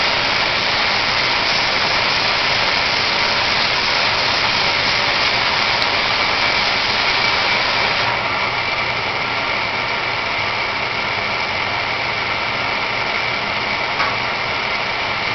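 An AgieCut 120 wire EDM machine showing error 420 threads its wire, giving a steady, even mechanical hum that runs without a break and shifts slightly in tone partway through.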